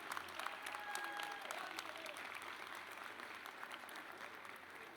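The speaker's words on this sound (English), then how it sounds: "they deserve a big, big round of applause, our faculty and our deans" An audience at a Bowie State University Founders' Day celebration applauds faculty and deans, a dense sustained clapping from a large crowd that holds steady and fades slightly toward the end.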